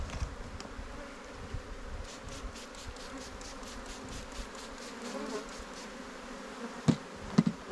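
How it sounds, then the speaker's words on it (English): Honey bees swarming around an open hive during an inspection, a steady dense buzzing hum close by with a few louder bumps and knocks near the end. "So I think there's about 10 zillion bees all over the place now."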